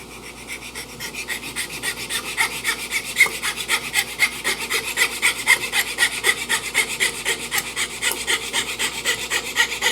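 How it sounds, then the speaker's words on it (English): Fret saw rasping through wood to remove the waste between dovetails, a steady rhythmic back-and-forth of short strokes, close and loud, with no voices. "I'm going to remove the waste with the fret saw"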